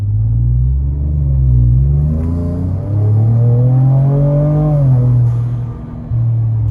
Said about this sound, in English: I'm going to go full throttle in Baja